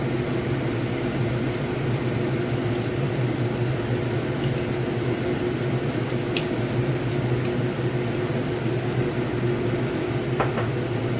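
Pork slices frying in a pan with satay sauce give a steady, close, dense sizzle and bubbling hiss that runs unbroken throughout, with a couple of faint clicks and no voices.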